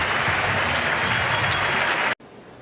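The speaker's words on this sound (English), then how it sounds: "Heasley is going to get a big round of applause here." Steady, dense applause from a large baseball stadium crowd fills the air, then cuts off abruptly to quieter background murmur.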